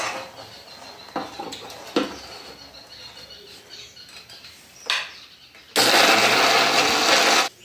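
A kitchen mixer grinding cream biscuits into powder whirs in a loud, steady burst near the end, preceded by scattered clicks and knocks of handling the jar.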